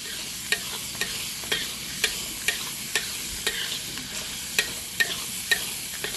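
Tomatoes being stirred in a pan while tilapia (mujair) fries, a soft continuous sizzle under regular, evenly spaced sharp ticks like a utensil tapping the pan, fairly quiet with no voices.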